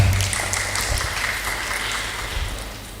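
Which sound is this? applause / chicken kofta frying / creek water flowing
applause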